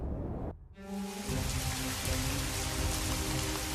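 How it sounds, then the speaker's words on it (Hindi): Heavy rain pours down in a dense, steady roar that starts after a brief pause and builds to a constant hiss. "अंधेरी रात में कड़कती बिजली के साथ जोरदार बारिश हो गई।"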